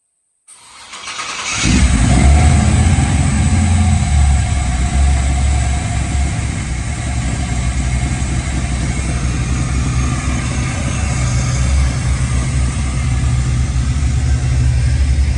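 A 1965 Chevrolet Nova V8 with a new cam fires up after a brief crank and settles into a loud, steady, rumbling idle close by, with no talk over it.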